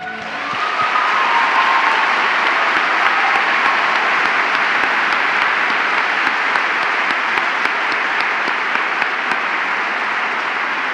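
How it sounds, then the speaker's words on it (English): Audience applause for poets at a national ceremony in Carnegie Hall, a loud, sustained roar of clapping from a large crowd that swells in and holds steady without voices. "can we please applaud one more time these extraordinary 2018 poets?"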